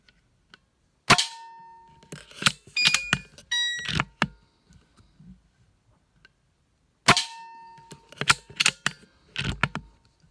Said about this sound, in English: is going to shoot these through his P-rod and see if sizing actually makes a difference between shooting pellets straight out of the tin